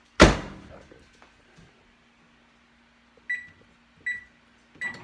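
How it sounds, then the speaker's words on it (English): A microwave door shuts with a sharp thunk, followed by a low hum and three short electronic beeps as buttons are pressed. "There it goes into the microwave."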